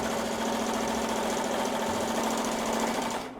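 An embroidery machine tacks down a vinyl bag-tag patch with a fast, even stitching chatter and a steady motor hum. The sound runs close up without a pause and then cuts off at the end.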